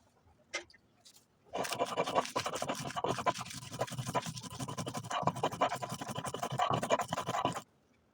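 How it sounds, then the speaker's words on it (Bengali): Cooked taki fish is ground with dried chili on a stone. A brief knock comes first, then about six seconds of close, rough, rhythmic scraping before it stops abruptly. "শুকনা মরিচের সঙ্গে এখন মাছগুলোকে আমি বেটে নিব।"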